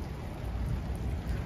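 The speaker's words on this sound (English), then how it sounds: "nice and rainy and nasty" Steady rain falling over an outdoor junkyard of old cars, a dense close hiss and patter with low rumbling underneath, continuous and without talk.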